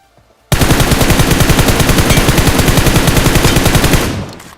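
Rapid, steady gunfire from a BGMI video game match, loud and close, fires continuously in an unbroken rhythmic burst for about three and a half seconds before cutting off abruptly.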